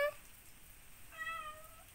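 A cat gives a short meow at the start, then a longer, slightly rising meow a second later, fairly soft against a quiet room.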